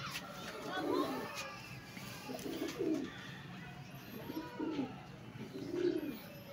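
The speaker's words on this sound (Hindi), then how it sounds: "इसमें से 2 बच्चे तो चींची करते हैं।" Panther-breed pigeons, including chicks, give soft repeated cooing calls at a steady rhythm, close and moderately quiet, with faint high chirps near the end.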